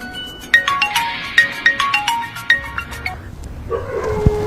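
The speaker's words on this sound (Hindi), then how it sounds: "अरे फोन बज रहा है।" A phone ringtone rings loudly in a repeating melodic pattern of sharp tones, then a brief clatter follows as the ringing stops.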